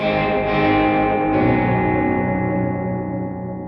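An electric guitar chord played through a Seymour Duncan Dark Sun reverb pedal with the blend turned up rings out loud and lush, a second strum feeding into the wash before it slowly decays.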